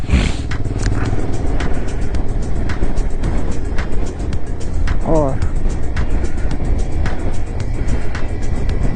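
A motorcycle climbing the high-altitude road toward Umling La at around 35-40, its engine a steady drone with wind rush under someone talking throughout.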